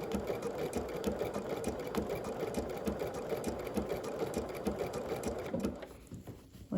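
A sewing machine blanket stitching yellow fabric, running in a fast steady rhythmic whir of needle strokes for several seconds before slowing and stopping near the end, fairly quiet and close.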